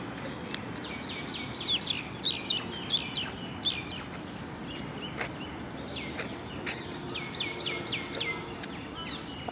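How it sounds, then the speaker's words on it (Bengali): Birds chirp and sing in a park in the morning, repeated bright calls scattered across the clip over a steady outdoor background hum, moderately distant. "কিন্তু আমি শুনতে পাচ্ছি পাখির ডাক।"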